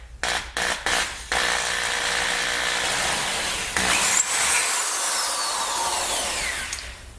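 Power drill boring a hole into an arrow shaft near its top: a few short stuttering bursts of the drill, then a long steady high whine close by that eases off toward the end.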